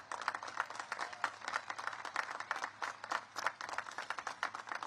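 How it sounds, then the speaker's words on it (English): Sustained applause from a large crowd at a Coast Guard Academy commencement ceremony, a dense steady wash of many hands clapping at moderate distance with no speech over it. "let's give a big round of applause to the entire faculty and staff"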